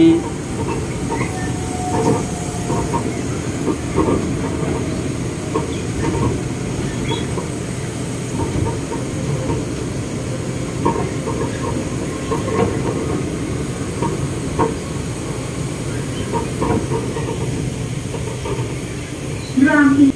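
Bangkok's Pink Line electric monorail running between stations, a steady close rumble of the moving carriage throughout, with a faint whine and light clatter, alone with no talking.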